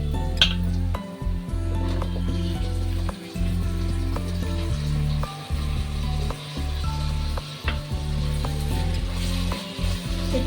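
Tomatoes are added to onions frying in a pan while cooking prawn rice. There is a steady loud sizzle with rhythmic mechanical ratcheting and clattering over it, and no talk.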